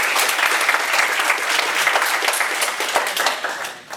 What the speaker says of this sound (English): everyone that agrees, please give her a big round of applause.